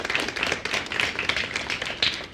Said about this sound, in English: So I just wanted to give a round of applause for our speaker today, Chris Markey.